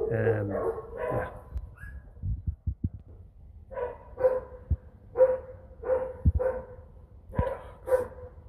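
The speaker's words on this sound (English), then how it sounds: "And there's all the dogs barking." Several dogs barking around a house in a quiet rural setting, a series of sharp barks coming in irregular bursts at moderate distance, with a person speaking briefly at the start.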